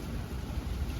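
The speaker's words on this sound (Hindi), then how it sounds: "बीकानेर में आंधी और बारिश दोनों आ चुकी है" Continuous rain during a storm in Bikaner, with a soft, dense patter and low rumbling noise underneath, steady and fairly quiet throughout.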